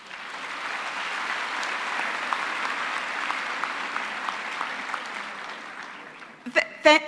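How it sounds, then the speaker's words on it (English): A large graduation-ceremony audience applauds the Vice Chancellor, a steady wash of many hands clapping at moderate distance that fades toward the end, followed by a brief voice close to the microphone. "can we please give a round of applause to the Vice Chancellor?"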